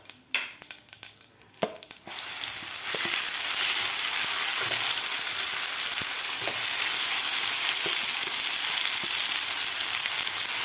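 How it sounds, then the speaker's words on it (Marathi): Green masala paste for a gavar-potato vegetable sautéing on a medium flame, a loud, continuous hissing sizzle after a few clattering stirs and scrapes at the start. "मिडियम गॅसवर आपल्याला वाटण व्यवस्थित परतून घ्यायचं आहे"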